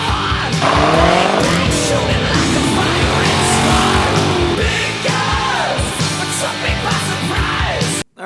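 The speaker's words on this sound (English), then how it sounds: "That is the C4 Corvette." A C4 Corvette drives hard with loud engine roar and repeated tire squeals sweeping up and down, close and intense, with a brief yell-like sound mixed in before the noise cuts off abruptly at the end.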